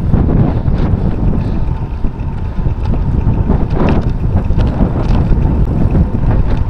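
Loud, unbroken wind roar from a strong headwind and crosswind striking motorcycle riders, gusting and buffeting the microphone close up with no one speaking.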